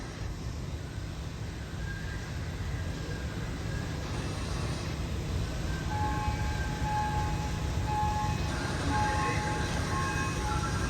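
A subway train rumbles steadily through an underground station in Washington, D.C., a loud, continuous roar with faint high whines and squeals riding on top.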